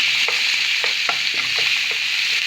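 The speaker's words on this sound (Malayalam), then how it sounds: "വെളിച്ചെണ്ണയൊക്കെ ചൂടായിട്ടുണ്ട് ഇനി അതിലേക്ക് നമുക്ക് ചോപ്പ് ചെയ്ത് വെച്ച സവോള ഇഞ്ചി വെളുത്തുള്ളി തക്കാളി എല്ലാം ഒന്ന് ഇട്ട് കൊടുത്തൊന്ന് എടുക്കാം" Chopped onion, ginger, garlic and tomato dropped into hot coconut oil, a loud, steady, close sizzle with a few light stirring taps.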